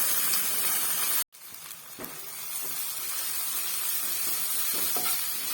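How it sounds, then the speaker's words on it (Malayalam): Chopped onion with crushed ginger, garlic and slit green chillies sautéing in a pan, giving a loud, steady close sizzle broken by a brief silent cut near the start, then light stirring clicks. "ഇഞ്ചി വെളുത്തുള്ളി ചതച്ചത് പച്ചമുളക് കീറിയത് കൂടി ചേർത്ത് നന്നായിട്ട് ഒന്നുകൂടി ഇത് വഴറ്റിയെടുക്കാം"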